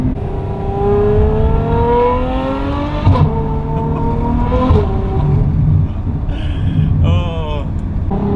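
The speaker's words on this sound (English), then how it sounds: "And what an incredible F12 I get to try as my first one with the IPE exhaust. This thing just sounds unreal." A Ferrari F12 fitted with an IPE exhaust revs hard and climbs through rising tones, with sharp gearshift breaks and a brief lift-off crackle, loud and close from inside the car.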